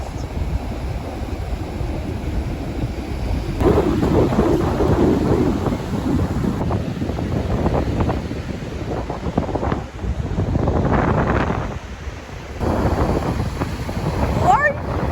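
Ocean waves splash and rumble at a beach in Myrtle Beach, loud rushing surges rising and falling under heavy wind buffeting the microphone, with people talking intermittently.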